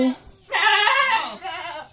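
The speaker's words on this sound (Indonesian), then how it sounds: "kambing cerewet yang tidak normal menurut kami itu" A noisy, restless farm goat bleats loudly and close, one long wavering cry followed by a shorter, weaker bleat.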